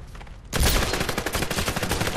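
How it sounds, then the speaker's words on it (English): Rapid automatic gunfire in a James Bond video game bursts in after half a second of quieter background, a dense loud stream of close shots. "I just wanted to shoot Jason."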